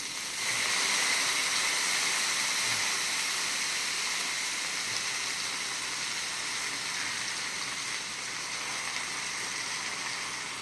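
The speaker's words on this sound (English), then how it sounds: "That way you can steam your broccoli." Broccoli steams over a pot of boiling pasta water cooking tortellini for chicken broccoli alfredo, giving a steady, even hiss with a faint bubbling texture that stays constant and close throughout, with no talking.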